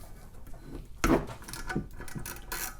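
A ratchet wrench with a 10 mm socket removing a bolt on a 1969–1978 Honda CB750 engine. A few faint, uneven ratcheting clicks and clunks sound close by in a quiet workshop.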